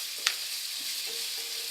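Onions sweating over gentle heat in a frying pan, a steady soft sizzle heard close and alone, with a brief clink near the start.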